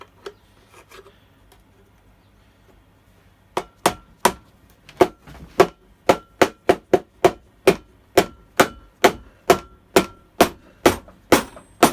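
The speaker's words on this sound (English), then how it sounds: "Let's get the rubber hammer, see if we can shake this flywheel loose." A rubber hammer strikes the flywheel of a Stihl BG86c blower, a long run of sharp, evenly spaced knocks at a steady rhythm, close and loud, after a few lighter taps and a quiet start.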